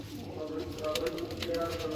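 Low, rounded cooing from a large, old chuha-breed pigeon, a steady muffled burble close by, running under people talking throughout.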